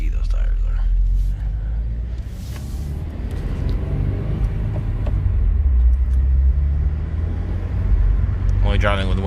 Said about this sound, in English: You can hear how fucking sticky those tires are.